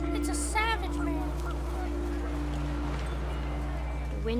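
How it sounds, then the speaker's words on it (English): Geese honk in brief, panicky calls near the start, followed by a steady wind-like hum with faint ambient tones, in the video game What Remains of Edith Finch. "The wind picked up and panicked geese appeared and quickly went."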